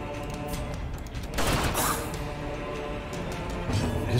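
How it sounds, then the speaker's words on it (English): Pistol fire and combat noise in The Last of Us, with a burst of sharp gunshots around the middle over a dense, continuous game soundscape and a music-like tonal bed. "His pistol shot is pretty fucking badass, I guess."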